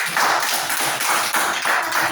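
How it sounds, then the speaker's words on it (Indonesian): Schoolchildren clap together in a classroom during a maths lesson, a brisk run of bright, fairly loud hand claps falling in a loose rhythmic pattern. "Tepuk tangan dulu untukku."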